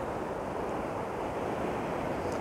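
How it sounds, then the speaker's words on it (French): Small ocean waves, little rollers and ripples, breaking steadily on the shore with a constant wash of surf and some wind noise, alone and without voices. "C'est beau, regardez, apprécier ces vagues. Les rouleaux, mais là c'est des petits rouleaux, c'est des vaguelettes"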